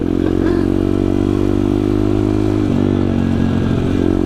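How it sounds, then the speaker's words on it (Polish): A small BRZ F150 pit bike engine runs loudly and steadily up close, a constant buzzing drone with faint clattering throughout. "ten silnik taki głośny"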